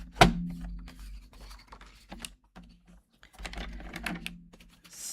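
Paper being trimmed for a double accordion gatefold card, a few soft close cutting strokes and rubbing slides of a paper trimmer blade, faint and intermittent with quiet background.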